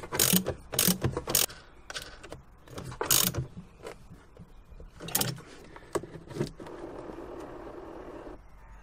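A ratchet tightening van battery terminals, close quick clicking bursts in several separate spells with pauses of quieter handling between them.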